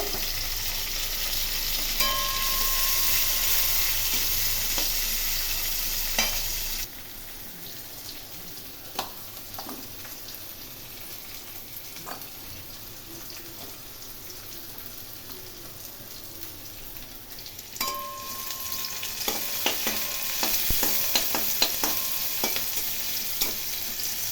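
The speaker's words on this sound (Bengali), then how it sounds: "এখন এর মধ্যে পেঁয়াজ কুচি দিয়ে দিলাম পেঁয়াজগুলো ভালো করে ভেজে নেবো" Chopped onions fry with white cumin seeds in a pan for a yam and prawn dish, giving a continuous close sizzle. It drops quieter after a few seconds, then swells again later with scattered stirring clinks.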